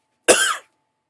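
A single short, sharp cough from a person, close and loud, with silence before and after.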